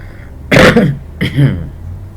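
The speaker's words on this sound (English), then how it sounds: "Can't believe I'm coughing so much." Two harsh coughs, close and loud, one after another with a short pause between them.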